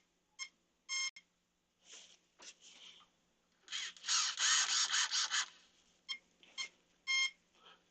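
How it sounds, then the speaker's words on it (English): Electronic beeps come from an RC model on the workbench: short sharp tones, a dense burst of rapid beeps midway and a few more single beeps after, all close and clear against quiet. "I'll figure out the beeping."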